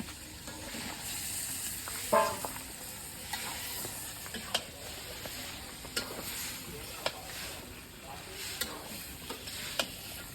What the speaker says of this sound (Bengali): মরিচ তো কষানো শেষ, মাংস দিয়ে দিই।